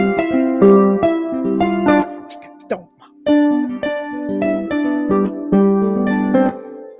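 Harp plucking the melody of a piece, bright ringing notes in quick lilting groups with a short pause midway, close and clear with no voices.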